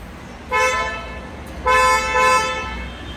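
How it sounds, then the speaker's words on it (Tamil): Two car-horn toots from a Hyundai Creta, a short honk followed after a pause by a longer double blast, loud and close with no talking. "ஆரன் சவுண்டு கேட்டிங்களா?"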